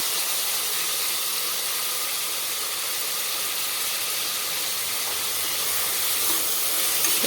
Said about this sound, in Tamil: உப்பு சேர்த்துட்டு நல்லா வதக்கி விட்டுருவோம்